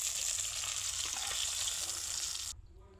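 Silver carp pieces sizzle loudly in hot oil in a home kitchen, a steady close crackle that cuts off sharply near the end as the fried fish is lifted out.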